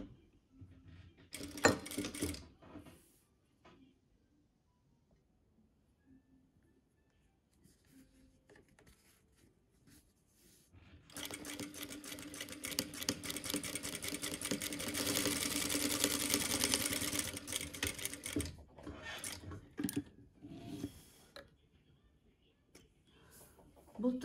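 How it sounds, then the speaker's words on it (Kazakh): A sewing machine runs close by while stitching a French seam, with short bursts at the start and then a long, steady run of rapid stitching. A few soft handling noises fall in the quiet gaps. "Осының үстінен строчка жүргізіп шығамыз."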